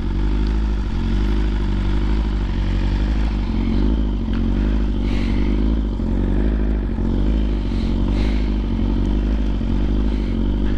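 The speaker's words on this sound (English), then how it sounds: "I'm fucking revving in neutral, thinking I'm in fucking first gear." A 1000cc motorcycle engine revs loud and close in neutral, a continuous throaty roar with slight rises and dips and no speech.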